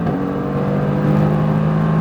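Loud, close in-cabin engine note from a Mercedes-AMG GT R on a track, a steady harmonic drone that shifts pitch midway through an upshift and keeps pulling hard to the end.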